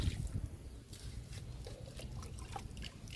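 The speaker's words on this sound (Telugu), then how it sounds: "కొంచెమే పోయాలండి అర మొగ్గు పోస్తే సరిపోతుంది ఒక్క మొక్కకి" Liquid fertilizer is poured onto vegetable plants, giving a soft, steady trickle and dribble with faint splashes against a low background rumble, close and quiet throughout.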